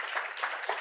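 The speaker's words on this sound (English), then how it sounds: "let's have a big round of applause for Jingyi" Audience applause at a sustainability conference session, a soft, dense patter of many hands clapping at once, steady and fairly quiet throughout.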